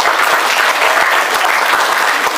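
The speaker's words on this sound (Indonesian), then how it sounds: "Tepuk tangan buat kita semua" Steady, dense applause from a school event audience, loud and continuous for the whole stretch with a broad crowd of clapping hands and no talk over it.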